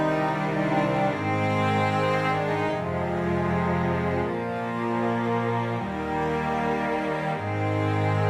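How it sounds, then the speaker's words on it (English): A sampled cello from Session Strings Pro 2 in Kontakt plays a slow, legato melody of long sustained notes, rich and steady, with no talk over it. "we're going to be playing a similar melody on the cello"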